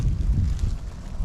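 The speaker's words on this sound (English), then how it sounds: "It is cold and windy." Cold wind buffets the microphone outdoors, a steady low rumbling roar with no voices.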